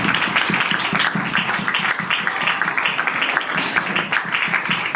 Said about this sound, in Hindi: आपकी भरपूर तालियों में तालियां बजती रहे यीशु के जलाल के लिए। जोरदार क्लैपिंग।